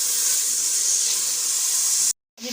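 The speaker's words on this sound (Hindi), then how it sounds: "ये 2 अदद हमारे पास अनियंस है। इनको भी अच्छे से गोल्डन फ्राई करना है" Onions frying toward golden in oil for Kabuli mutton vegetable pulao, a steady loud hiss of steam and sizzle that cuts out abruptly near the end before briefly resuming.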